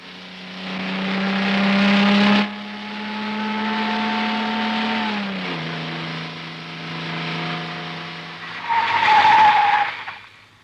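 A car with an overheated radiator pulls away, its engine droning steadily with shifting pitch and a rising rev near the end, loud and close with no voices.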